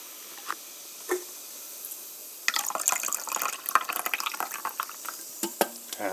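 Water is poured into a glass to make carbonated orange pineapple coconut Gatorade, a quiet trickling splash that builds after a few faint taps and drips, close by and with no talk.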